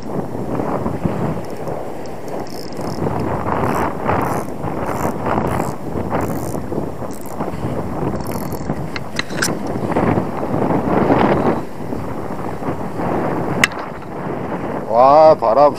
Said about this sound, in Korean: 와 바람